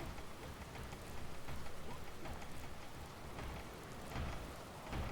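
Steady rain in Dragon Quest Builders 2 hisses and patters evenly throughout, with faint low rumbles beneath, close and continuous with no talk.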